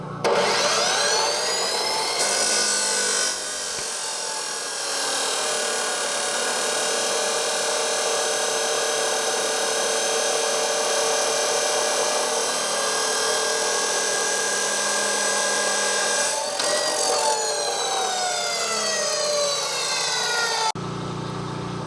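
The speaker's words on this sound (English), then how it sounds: "So let's cut some metal." A power tool cuts through metal during repairs to a worn table, giving a loud, sustained grinding screech that starts, runs steadily for about fifteen seconds with small shifts in pitch, then stops.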